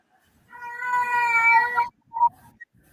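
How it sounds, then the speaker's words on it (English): A house cat gives one long, drawn-out meow lasting over a second, followed by a short, clipped second call, close and clear against a quiet room. "Yeah, you hear the cat"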